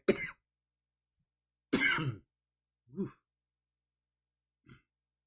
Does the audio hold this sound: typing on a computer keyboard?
no